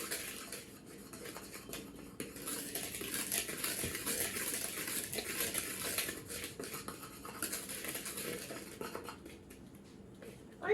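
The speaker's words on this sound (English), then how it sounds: "Now we're going to whisk until combined." Dry cupcake ingredients, flour with a pinch of salt, whisked together in a mixing bowl for a red velvet style cupcake: steady close scraping and rattling of the whisk against the bowl, continuous with small clinks, no talking.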